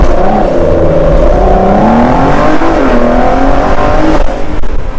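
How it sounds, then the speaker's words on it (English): A Ford GT Mk II with a 700 hp engine revs and accelerates hard from a standstill with wheelspin, its roar climbing steadily in pitch, loud and close with a gritty, continuous growl. "come to a complete stop, jam on the throttle. You can hear it going."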